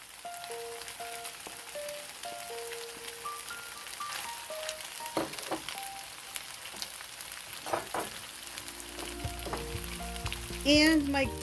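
Beef and garlic sizzle and crackle as they char in a hot pan for a pepper steak stir-fry, a steady close frying hiss with occasional stirring scrapes and clinks, under soft background music.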